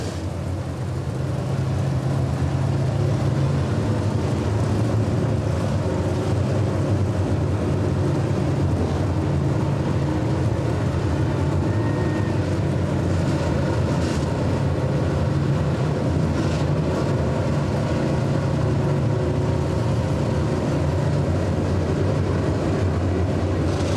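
Race cars in a sportsman feature race at Atomic Speedway, a dense continuous engine roar from a pack of cars, loud and sustained with no talk.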